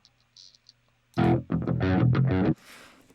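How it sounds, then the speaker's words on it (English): A thin, buzzy burst of fuzz-distorted 8-string guitar with only the high, harsh end left, sustained for over a second, then cut off into faint hiss. "just like that top end of the fuzzy distortion"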